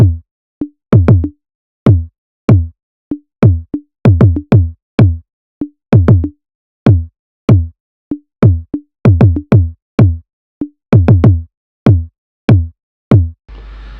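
Layered kick drum samples pounding out a beat in a music production session, deep punchy thumps with bright clicky attacks in a loose repeating pattern, clear and alone.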